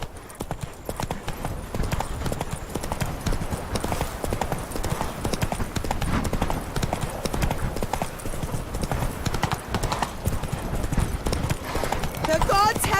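Roach the horse galloping in The Witcher 3, hooves pounding in a rapid, continuous clip-clop rhythm close by, with game sounds in the background.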